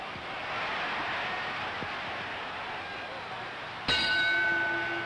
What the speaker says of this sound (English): There's the bell, ending a close round.